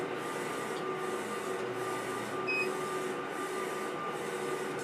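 A DTF transfer printer runs steadily, giving a continuous mechanical hum and whir with faint periodic swells as the print head travels back and forth, with a brief high tone partway through and no voices.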